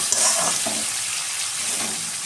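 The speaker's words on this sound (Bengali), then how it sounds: "চলো এটা ভালো করে ভেজে নিই।" Food frying in a pan makes a close, dense sizzle, steady and fairly quiet, with faint stirring and scraping and no voices.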